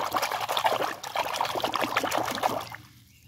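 Water pours and trickles close by for a few seconds as a plastic toy animal is washed, splashing unevenly before fading out.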